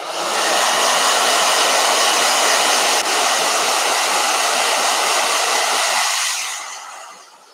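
A blow dryer runs steadily with a loud, constant whooshing roar for about six seconds, then cuts off and its hum fades out.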